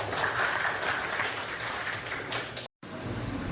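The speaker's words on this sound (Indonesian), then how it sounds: "tepuk tangan dulu" A class claps together in a room, a steady burst of applause that cuts out abruptly for a moment near the end before resuming.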